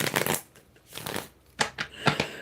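Oracle cards are shuffled by hand in a few quick, crisp riffling bursts with short pauses between them, close up and without talk.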